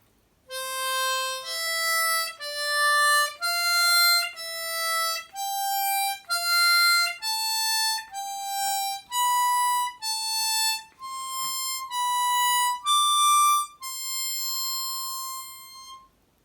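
A harmonica plays a stepwise sequence of single held notes, about fourteen in a row, clear and close with no talking.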